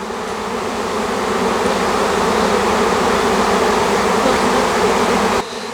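A swarm of honeybees buzzes around a branch where the queen has settled, a loud dense continuous drone from many wings close by that drops slightly near the end.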